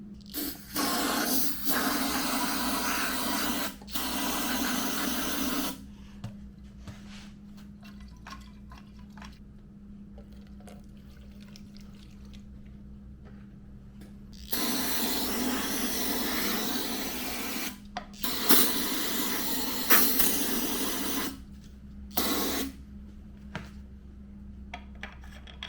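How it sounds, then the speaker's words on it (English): Bursts of pressurized carb cleaner spray hiss loudly in several long blasts into a Stihl 041 Farm Boss chainsaw carburetor, separated by quieter stretches with faint dripping and handling noises. "I'm just gonna probably spray some carb cleaner in there."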